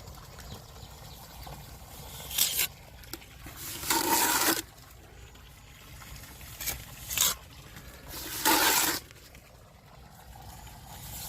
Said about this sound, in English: That's how I'm applying it, and I'm smoothing it off with my trowel.